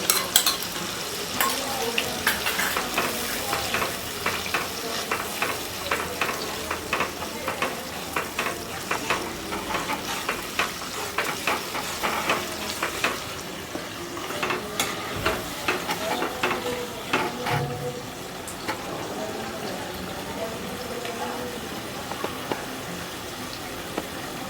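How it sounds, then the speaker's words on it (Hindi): Fish frying in plenty of oil with a mustard powder paste, a loud continuous sizzle and crackle with frequent scraping and clinking of a spoon stirring against the pan. "ये मछली बन रहा है। हाँ, ये मछली बना रही हूँ मैं।"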